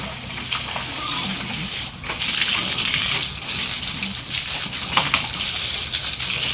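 Water gushing and splashing over a pig being bathed, a continuous hissing spray with brief dips and surges, loud and close.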